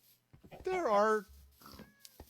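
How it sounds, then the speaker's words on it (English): A cat meowing in Minecraft, one long wavering meow in the middle followed by a fainter shorter one, heard close with a voice speaking around it. "Why are all the cats here?"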